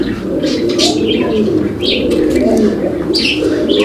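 Fancy pigeons for sale at a cheap pigeon market coo and chirp close by, repeated soft throaty calls over a busy steady background murmur.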